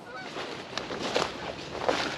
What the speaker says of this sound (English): I hear the geese honking.